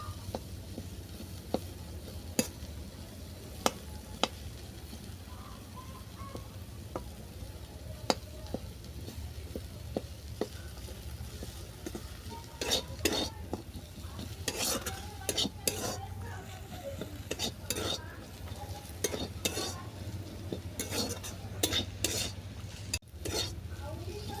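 Potatoes and jute leaves stir-fried together in a pan, with a low continuous sizzle beneath intermittent metallic scrapes and taps of a spatula cutting the potatoes into pieces, growing busier and denser in the second half.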